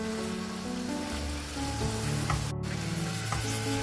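Kaleji (goat or lamb liver) frying in a pan for an Eid recipe, giving a steady, close sizzle with faint stirring scrapes and a brief sharp clatter near the end.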